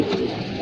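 A telo pigeon courting coos in one short, low, throaty burst, close and fairly loud, with soft breathy texture throughout.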